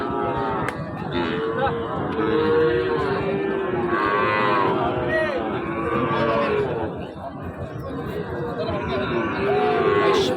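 Cattle at Raniganj cattle market in Bangladesh, several cows mooing loudly and often, some near and some farther off, over a steady murmur of a crowd talking.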